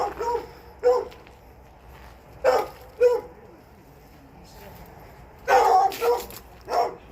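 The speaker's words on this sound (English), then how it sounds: "And that's his little dog there." A small dog on a rural property with a sawmill and tractor shed barks in several sharp, separate bursts, fairly close, with quiet gaps between them and faint background noise.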